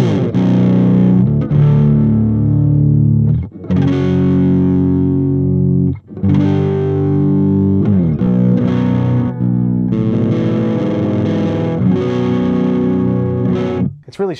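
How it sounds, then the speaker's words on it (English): Electric guitar runs through a Barefoot Bumblebee pedal into a Kyro Audio Dulo amp pedal, playing loud, overdriven chords and riffs with a warm tweed-like breakup, close up, with a few brief pauses between phrases. "we now have the Bumblebee by Barefoot pedals going into the Kyro Audio Dulo."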